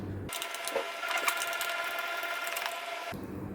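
Screws are undone on a Yamaha PSR 3000 keyboard being repaired for a dead, no-power fault, giving a steady, close mechanical whir and ratcheting that runs for about three seconds before stopping abruptly.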